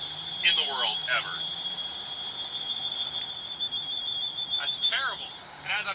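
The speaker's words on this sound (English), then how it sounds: "Most obnoxious low fluid or air alarm in the world ever." A truck's low fluid or air alarm in a GTA roleplay game sounds as a steady, piercing high-pitched tone throughout, with a voice talking over it in bursts.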